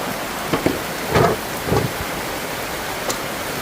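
Heavy rain falls steadily on a Florida garden, a constant hiss with a few brief, louder rumbles and bursts that suggest distant thunder within the downpour.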